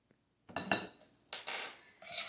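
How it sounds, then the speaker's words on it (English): A spoon scraping and clinking against a bowl while mixing ham turnover filling with milk, three short close bursts of stirring separated by brief pauses. "I'm going to mix that up a little bit."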